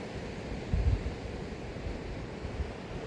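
Sea surf washing onto the clean beach below Korlai fort near Korlai village, Alibag, heard from a height as a steady, soft wash blended with low wind rumble and a few slightly stronger swells, with no talking.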